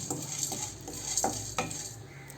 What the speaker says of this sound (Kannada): ಎರಡು ಚಮಚ ಜೀರಿಗೆ ಎರಡು ಚಮಚ ಮೆಣಸು ಹಾಕಿ ಡ್ರೈ ರೋಸ್ಟ್ ಮಾಡ್ಕೊಳ್ಳಿ